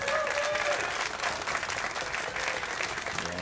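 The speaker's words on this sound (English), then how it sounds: "big round of applause there for the audience for Chezka's first rack" Steady audience applause fills an arena at the Las Vegas Open pool final, a dense, moderately distant wash of clapping that continues evenly throughout.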